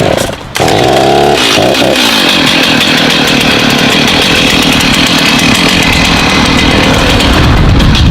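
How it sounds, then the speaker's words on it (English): A chainsaw roars at close range, starting after a brief revving moment and then running loud and steady as it bites through crepe myrtle branches while pruning. "gotta be chainsaw, and we're gonna go in hard and get it in"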